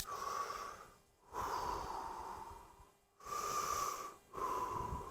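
An F-105 pilot's heavy, rhythmic breathing through a mask, four long hissing breaths separated by brief pauses, close and wheezy.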